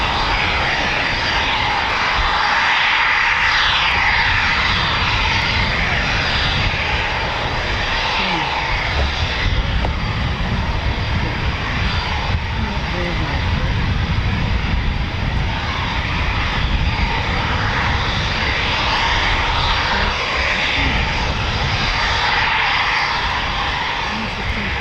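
Eurofighter Typhoon FGR4 jet engine at RAF Coningsby, a steady loud roar that holds for the whole stretch with a broad rumble, heard from outdoors with faint voices nearby.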